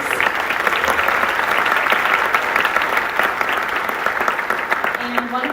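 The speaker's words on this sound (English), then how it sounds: "We have Shui and Lena, if we could give them all a round of applause." An audience at a summer youth symphony concert applauds steadily, a dense wash of clapping that fills the hall throughout, with scattered louder claps and a brief voice near the end.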